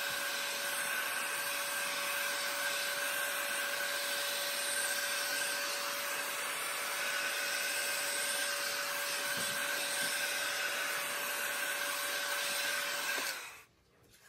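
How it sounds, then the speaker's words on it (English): Heat gun blowing hot air over a fresh acrylic paint pour, a steady high-pitched whirring fan drone with a constant tone, running for about thirteen seconds before switching off abruptly. "now we're gonna go ahead and heat it with the heat gun and see what happens"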